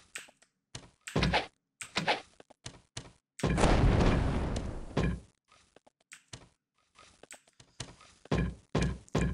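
Enemies in Might and Magic 8 fire on the party: a quick series of sharp, close thunks and impacts, then a longer loud rushing blast, followed by more scattered hits with quiet gaps between.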